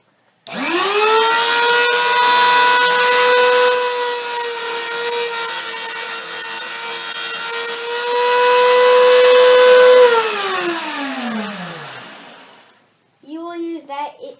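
A long, steady whining tone from a power tool cutting the centerpiece for a homemade alcohol can stove runs for about ten seconds, then winds down in pitch as the tool slows and stops. A short burst of sound follows at the end.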